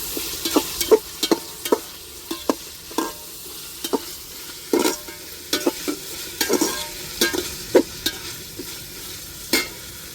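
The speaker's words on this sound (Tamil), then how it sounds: "இப்போ இஞ்சி பூண்டையும் சேர்த்துருவோங்க ஏன்னா இஞ்சி பூண்டு பச்சை வர மாறக்கு நல்லா வதக்கி விட்டுருவோம்" Ginger and garlic sautéing in a pan while a spoon stirs them, with irregular scraping strokes and soft clatters over a steady low sizzle, no voices present.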